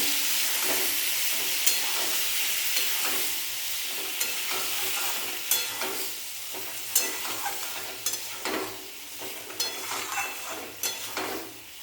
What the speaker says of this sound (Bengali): ভালো করে এটা নাড়া করে নেব